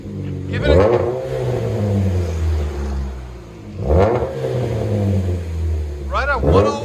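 A Chevy Cobalt 2.2L with a Vibrant bottle resonator exhaust revs up in a few loud, close bursts with an idling rumble between them, while people talk over it.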